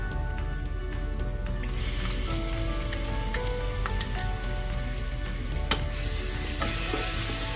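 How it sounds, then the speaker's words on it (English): Ginger garlic paste and ground spice powder fry and sizzle steadily in a pan for a Kerala-style beef gravy, with continuous crackling, occasional stirring scrapes, and no talking. "The ginger garlic paste has been cooking for a couple of minutes."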